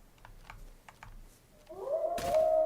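A wolf in the DayZ survival game lets out a loud, rising howl that swells near the end, following a few soft keyboard taps in a quiet room.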